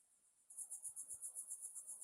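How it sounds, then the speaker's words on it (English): Cicadas buzz in a rapid pulsing high-pitched drone that starts abruptly and keeps a steady rhythmic throb, clear but fairly quiet outdoors with a couple of faint low thumps underneath. "Listen to those cicadas."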